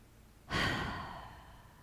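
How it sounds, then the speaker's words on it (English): A single deep breath during a yoga session, drawn in through the nose and released through the mouth as a long, close, airy exhale that fades gradually, with no talking. "In through the nose, out through the mouth."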